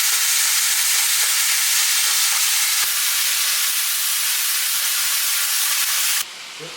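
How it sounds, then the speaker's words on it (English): Ground beef and onion frying in a pan, a loud continuous sizzle and hiss with faint scraping taps from a spatula breaking the meat apart, close up, with no speech. "Now we're going to go ahead and break it up with our spatula into small pieces, add in our onion"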